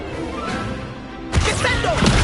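Incendio fire spell cast in Hogwarts Legacy, a sudden loud burst that flares up after a quieter stretch, followed by crackling, whooshing effects and faint voice sounds.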